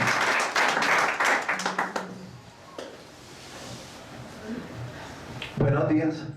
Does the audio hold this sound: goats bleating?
no